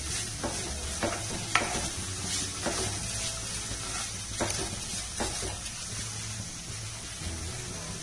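Vegetables and capsicum fry in a pan for macaroni soup, a steady sizzle punctuated by occasional spatula clicks and scrapes as they are stirred.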